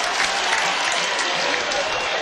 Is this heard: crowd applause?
yes